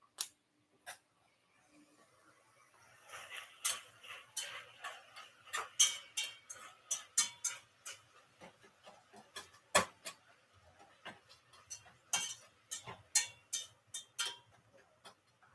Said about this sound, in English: I can just go in there and just go tick, tick, tick, and it separates all the little pieces and stuff